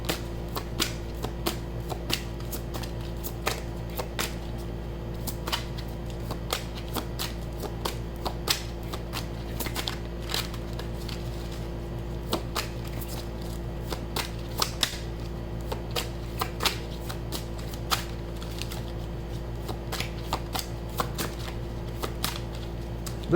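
Tarot cards are shuffled close by in a steady run of soft, quick riffling flicks that go on throughout, with a constant low hum underneath and no talking.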